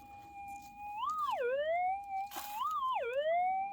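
A warbling metal detector target tone that holds steady, then swoops high and drops low, repeating twice with a brief noisy burst between.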